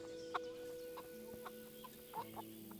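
A chicken clucks in the medieval role-playing game Kingdom Come: Deliverance, giving four or five short, clear clucks at uneven intervals over a steady, soft ambient hum. No one speaks.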